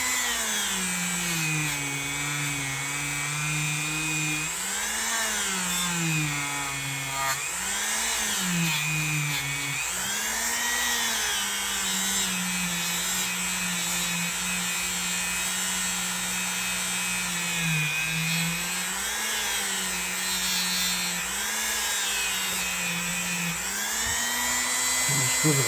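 A power buffing wheel whines steadily while a vintage Hammer Brand Barlow knife blade is pressed against it with rubbing compound, its pitch dipping and rising repeatedly as the blade is worked across the wheel. The sound is close and continuous.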